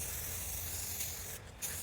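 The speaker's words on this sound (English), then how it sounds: "just adding some black spray paint all around here." Close, steady hiss of a black spray paint can coating a prop pumpkin, one continuous burst with a short break near the end, no talking.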